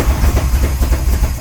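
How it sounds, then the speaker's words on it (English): A 1938 SS Jaguar 3½-litre drophead runs roughly as it starts running out of fuel, its engine chugging and sputtering with an uneven, pulsing low rumble, loud and close, without talk. "I think we're running out of fuel again."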